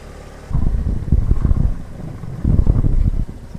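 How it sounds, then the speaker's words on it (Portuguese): Gusty wind buffets the microphone at a sandy canyon, rising in two strong rumbling bursts with a lull between, close and loud with no other sound. "Tá ventando aqui, viu?"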